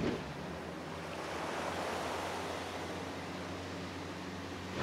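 Wind and surf at sea during squalls, a dense continuous wash of breaking waves and gusting air, fairly loud and steady with no voices.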